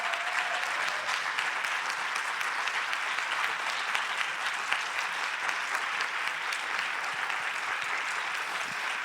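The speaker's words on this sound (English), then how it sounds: "Please give him and the whole team another big applause." Sustained applause from a conference audience, dense and even throughout with no voices rising above it.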